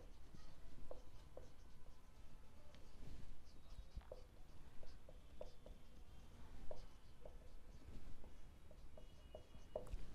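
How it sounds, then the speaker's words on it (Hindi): Marker or chalk writing on a board during a class 12 company accounts lesson, heard as short, scratchy, irregular strokes that are quiet and close, with brief pauses between words. "तो चलिए फिर इधर लिखते हैं"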